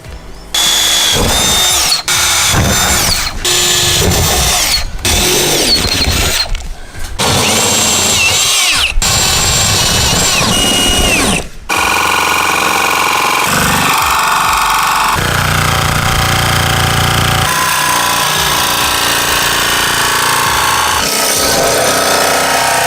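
Power tool cutting holes through a campervan roof for roof fan installation, a loud, continuous grinding and buzzing drill-like roar with brief pauses and changes in pitch, close and alone.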